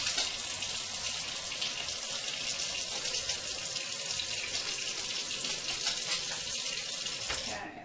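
Water runs from a kitchen tap into a crockpot in a continuous bright splashing stream, close and steady, and stops abruptly near the end.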